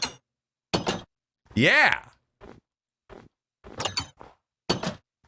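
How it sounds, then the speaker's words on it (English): An iron door in Minecraft opening and closing, heard as several short clanking bursts spaced apart, with a voice cheering once among them. "Iron doors have a new sound."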